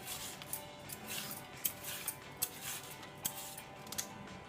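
Sweet potato being peeled and chopped in a home kitchen, a quiet series of short, scattered scraping and cutting clicks at close range.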